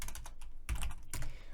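A sudo rpm import command tapped out on a computer keyboard gives short clustered bursts of close keystrokes separated by brief pauses.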